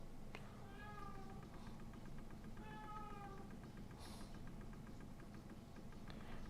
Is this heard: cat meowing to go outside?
yes